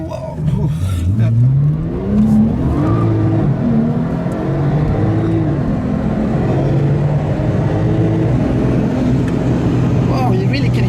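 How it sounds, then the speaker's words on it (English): Twin-turbo Ruf RT35 Anniversary, built on a Porsche 991, pulls hard from inside the cabin, its engine note climbing through rising sweeps with a thin whine riding above, while voices talk over it. "you really can hear the turbo whine, and it's single turbo. It's twin turbo."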